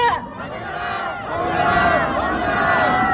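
A protest crowd at a rally at Chonnam National University chants slogans demanding an impeachment. Many voices shout together in loud unison, close and sustained, with rising emphasis across the chant.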